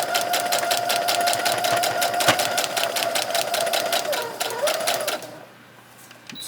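Sewing machine stitching a Halloween paper-pieced coaster runs steadily in rapid rhythmic stitches for about five seconds, then stops, leaving quiet room tone.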